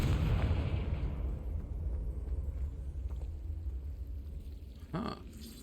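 A Confringo blasting spell in Hogwarts Legacy, a rumbling blast that fades under low game ambience before a sharp burst near the end.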